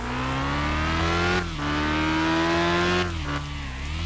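A bike engine in the video game Bus Simulator Indonesia drones steadily at high revs, loud and close, dipping briefly twice as if shifting, with no talking.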